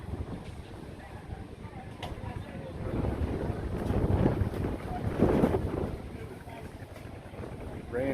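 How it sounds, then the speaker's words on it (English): Strong wind roars and buffets the microphone in loud, rushing gusts that swell and fade as rain rolls in at Elko Speedway during an ARCA race broadcast, with a voice faintly mixed in. "It's getting really windy all of a sudden."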